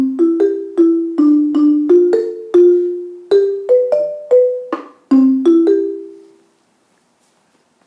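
Wooden and metal mallet percussion play arpeggio parts together in a quick, rhythmic run of struck notes that ring briefly, then the last chord fades into silence.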